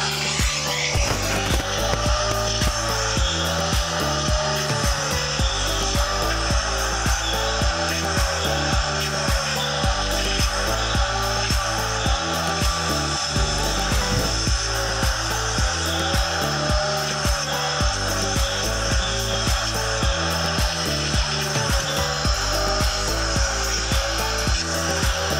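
A loud, steady motor roar with a constant airy whine runs unbroken for the whole stretch, a Truper 6 HP shop vacuum running close by.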